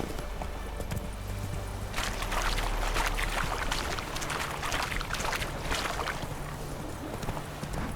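Roach the horse trots steadily through The Witcher 3, a continuous rhythmic clip-clop of hooves carrying over ambient game sound for several seconds with no talking.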